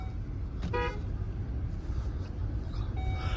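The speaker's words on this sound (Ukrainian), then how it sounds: "Сигналізує нам, що потрібно пристібнутися." A short series of electronic seatbelt reminder chimes rings out inside a running Volvo V60 2.0 diesel, over a steady low engine and road hum.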